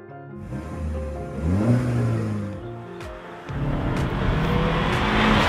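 A Mini Cooper drives hard, its engine revving up and changing pitch through the gears, loud and close with a brief dip before pulling again.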